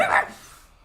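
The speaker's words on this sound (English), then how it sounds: "Dogs are like fucking screamers all the time." A single short, sharp dog bark, close and loud, fading quickly into a quiet room.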